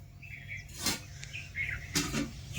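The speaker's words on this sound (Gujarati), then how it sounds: "ચકલીઓ તો આપણા અમદાવાદમાં તો જોવા મળતી નથી, ગામડામાં જોઈ લઈએ." House sparrows chirp in a village yard on a morning, with short bright tweets and a couple of louder, nearer chirp bursts above a quiet background hum, no speech.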